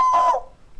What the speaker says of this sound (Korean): 꼬끼요 닭이 울고 말았어요.